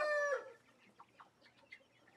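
Blue cuckoo chickens in a backyard grow-out pen, opening with a loud harmonic crow-like call, followed by scattered soft clucks and chirps at moderate distance.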